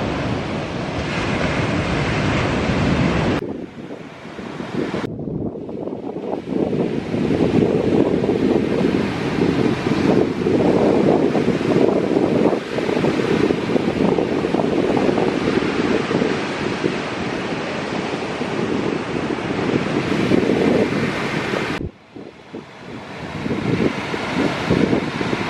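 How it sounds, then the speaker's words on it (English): Strong cross-shore wind buffeting the microphone at the beach in a loud, roaring rush, with surf noise beneath and brief drops where the gusts ease. "A little bit windy cross shore"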